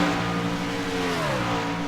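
Race car engines in a sim racing league game hold a steady, loud drone with a rising and shifting pitch as the cars rev, no voices over the continuous mechanical whine.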